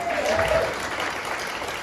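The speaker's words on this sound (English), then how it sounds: "Give her a round of applause" An audience at a talk applauds briefly, with a burst of dense clapping that holds steady and begins to thin toward the end, heard at moderate distance.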